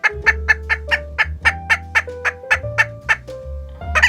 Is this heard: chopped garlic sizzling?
no